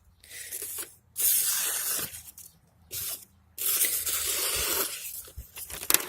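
A Mora Eldris fixed-blade knife slices through paper outdoors. Four bright hissing, tearing strokes of varying length are separated by short pauses, and wind is faint in the background.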